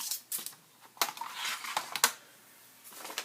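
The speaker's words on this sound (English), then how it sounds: "we're going to cut the bag at 6 1/4" Scissors cutting through a folded paper bag for a mini album, a few sharp crisp snips and crunchy rustles close by, scattered unevenly across the stretch with quiet gaps between.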